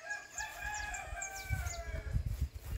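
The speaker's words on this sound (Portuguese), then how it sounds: "Ô, galo velho." An old rooster crows around a rural abandoned house built of brick, clay and woven timber, a drawn-out cock-a-doodle-doo with a few clucks, heard alone with soft handling thumps and rustles near the end.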